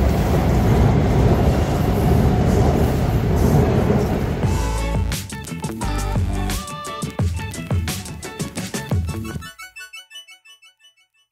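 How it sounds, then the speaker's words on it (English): A train pulls out of a station in Bangkok, a loud rumbling roar giving way to rhythmic clicking and clacking of the wheels that fades as it departs, with a brief chime at the end. "just in time for the train to leave."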